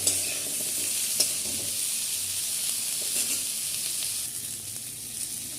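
Carrots, beans and other vegetables sizzle steadily in oil in a pan, with a constant frying hiss and occasional scrapes from stirring, close up and without talk.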